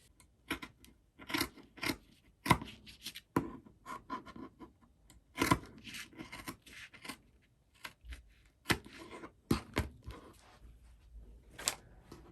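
Scissors cutting pieces of fabric for a satin-lined beanie, heard as close, crisp snips and crunches in irregular bursts, alone without talking.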